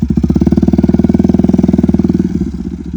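Motorcycle engine revving hard in steady rapid pulses during first-day wheelie stunt practice, loud and close, the throttle easing off toward the end.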